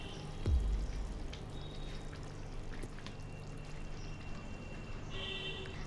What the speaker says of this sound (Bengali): আবারও একটু নাড়াচাড়া করে একটু কাঁচা সর্ষের তেল দিয়ে দিচ্ছি।